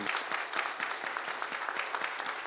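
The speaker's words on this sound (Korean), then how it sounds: "우리 박수로 한번 하나님께 감사와 영광에" A church congregation applauds at an anniversary thanksgiving service and ordination, giving soft, steady clapping from many people that sounds somewhat distant and continues evenly throughout.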